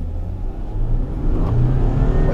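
A 2018 VW Amarok Highline with a 3.0 V6 diesel accelerates hard on a test course before heavy braking, its engine note rising steadily, loud and close, with no talk over it.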